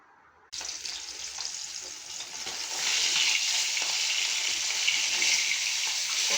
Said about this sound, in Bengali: এখন মাছটা ভাজা করে নিচ্ছি।